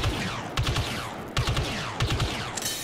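Gunfire in Star Wars Battlefront 2 as an assault-class rifle fires in three short, loud bursts of rapid shots separated by brief pauses, over a steady game background.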